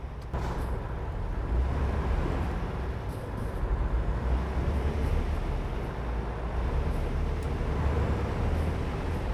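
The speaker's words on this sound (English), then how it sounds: "Hearing all the sounds of all the trucks shifting." Heavy trucks driving together in American Truck Simulator produce a continuous low engine rumble. Faint hisses and clicks of gear shifts and air brakes sit on top of it, with no voices over the steady drone.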